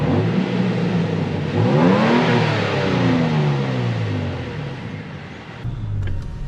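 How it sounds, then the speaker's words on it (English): A 2023 Toyota Tacoma mid-size pickup engine revs in sport mode, rising in pitch and falling back, loud and close, with no talking over it. "Quick little rev check."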